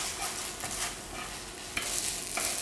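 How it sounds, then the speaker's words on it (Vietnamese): Konjac noodles stir-fried in a hot pan, a constant crackling sizzle with quick scraping tosses of the utensil, close and alone. "Mua sẽ xào lên cái phần mì nưa này."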